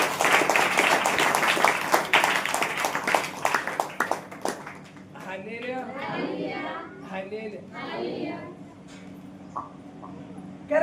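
A church congregation claps hands together during a Saturday prayer meeting, a dense, rhythmic patter of many hands filling the room before fading into scattered murmurs and chatter.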